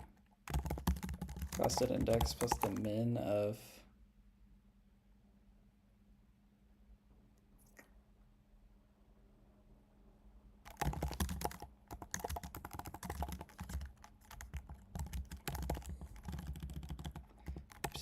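Code typed on a computer keyboard, a rapid close clatter of keystrokes in bursts with a long quiet pause between them, while a person talks over the first burst.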